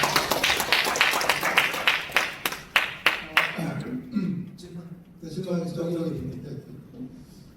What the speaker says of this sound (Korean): 박사님께 뜨거운 박수 부탁드리겠습니다